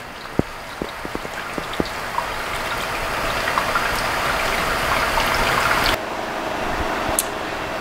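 Water trickles and splashes as it is poured over grain held in a brew-in-a-bag system, a steady close pouring hiss with a few early drips, growing slightly fuller midway.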